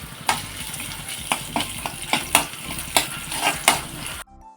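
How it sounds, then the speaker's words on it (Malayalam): Coconut pieces sizzle while frying in ghee in a pan, with repeated sharp scraping strokes of a spoon stirring at a steady rhythm, close and loud, before the sound cuts off abruptly. "ഇനി അതിനിപ്പോൾ കുറച്ച് തേങ്ങാക്കൊത്ത് കൂടെ വറുത്ത് കോരാം."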